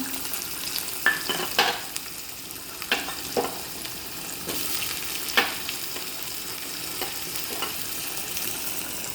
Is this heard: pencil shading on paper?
no